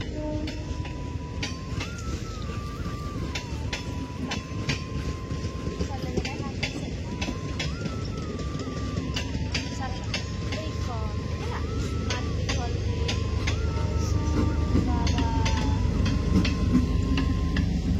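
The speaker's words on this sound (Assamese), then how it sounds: "এইফালে ট্ৰেইন আহিছে" A train rumbles past for a long stretch, with steady clickety-clack of wheels and a rising, heavy roar.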